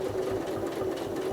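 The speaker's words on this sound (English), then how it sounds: "we're back on our line that we're stitching in the ditch, so we can just stitch on down" A sewing machine stitches in the ditch on a quilted disappearing nine patch block, running in a fast, steady mechanical whir with a rhythmic needle pulse, close and alone.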